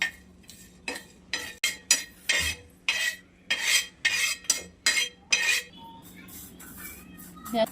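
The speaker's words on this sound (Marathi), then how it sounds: "हे तीळ तीळ खसखस हा खडा मसा मसाला पण भाजून घ्यायचा ह्याच्यात पण तेल नाही टाकायचं असंच भाजून घ्यायचं" Sesame seeds, poppy seeds and whole spices are dry roasted in a pan with no oil, a spoon scraping and clinking against the metal in a steady run of short, close strokes, then a quieter stretch near the end.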